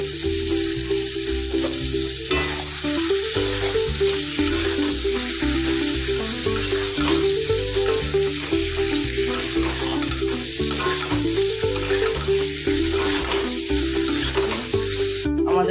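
Chicken pieces frying in a spice masala in a pan, a steady close sizzle running the whole time with stirring scrapes over it and a low repeating hum underneath.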